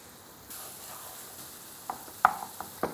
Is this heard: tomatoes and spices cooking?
yes